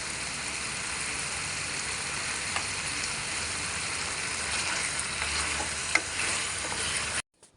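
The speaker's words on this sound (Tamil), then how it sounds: "நல்லா சேர்கிற அளவுக்கு சிம்மில் வச்சு நல்லா வதக்கிக்கோங்க" Potatoes coated in masala sauté over low heat in a pan, giving a dense, continuous close sizzle with faint intermittent stirring clicks and scrapes, no talking, stopping abruptly at the end.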